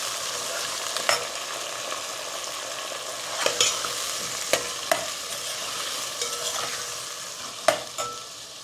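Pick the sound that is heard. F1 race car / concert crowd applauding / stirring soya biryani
stirring soya biryani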